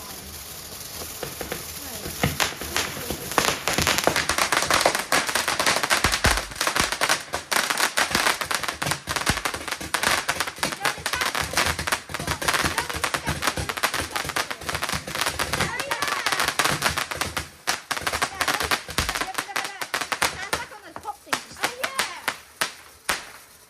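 A Bonfire Night fireworks display crackles and pops densely and continuously, with people talking over the noise.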